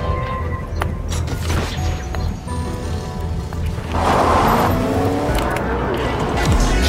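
A car drives in the Fortnite video game with a steady engine drone, some rattling and squealing, and a rising rev near the end, heard alongside players' voices.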